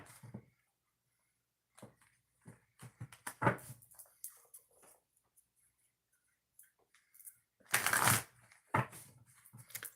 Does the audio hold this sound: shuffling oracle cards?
yes